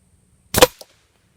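A single sharp shot from a .177 air rifle fired at a long-range target, a brief crack followed by a faint tick a moment later, alone against near silence.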